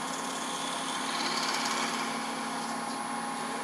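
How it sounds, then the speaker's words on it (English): A hand drill bores a starter hole into a wooden piece held in a woodturning scroll chuck, producing a steady, even whirring and grinding hum that holds without pause for a few seconds. "and then I use a hand drill for these."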